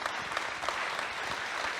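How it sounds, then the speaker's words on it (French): A conference audience applauds, a brief, steady patter of many hands clapping at moderate volume. "Je crois qu'on peut les applaudir très fort"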